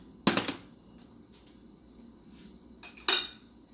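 A spoon stirs cornmeal into thickening plantain porridge in a pot, two sharp clinks of metal against the pot's side separated by a quiet stretch of soft stirring.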